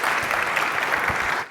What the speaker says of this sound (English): Can I get a massive round of applause for Ziva?